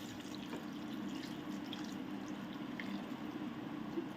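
Hot water pours steadily over dried fish to soak it, with a continuous soft, even splashing, close by and uninterrupted, with no talking.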